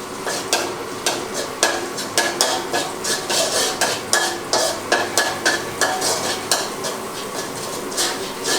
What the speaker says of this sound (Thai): นำสามเกลอลงผัดให้หอมนะครับ ให้ใช้ไฟอ่อนนะครับ